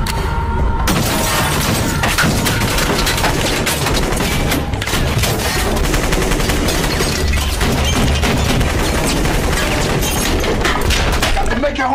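Gunfire in the Haitian shootout scene of the 2003 film Bad Boys 2, heavy continuous shots and shattering impacts in a small room, loud and unbroken throughout, mixed with film score and effects.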